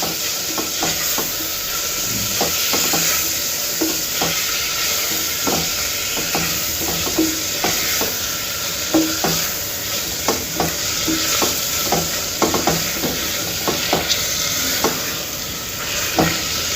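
Vegetables for masala khichdi fry in a pan with a steady loud sizzle while a spatula stirs them, producing regular scraping strokes and taps throughout, close by and without talking.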